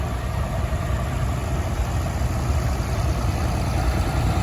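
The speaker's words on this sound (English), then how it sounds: "I like the little crawler tractor." Small Japanese crawler tractor idling at an outdoor steam fair, a steady low rumbling engine note with even texture throughout, close and moderately loud, no voices.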